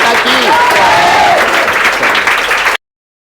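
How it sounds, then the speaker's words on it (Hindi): An audience at an Indian coaching-centre gathering gives a final loud round of applause, dense clapping mixed with crowd noise and voices that holds steady for nearly three seconds, then cuts off abruptly into silence. "तो चलो एक अंतिम जोरदार ताली हो जाए"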